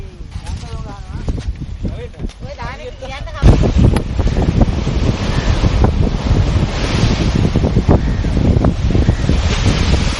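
Rough sea waves crash and churn with gusting wind noise, loud and continuous, with a voice speaking early on.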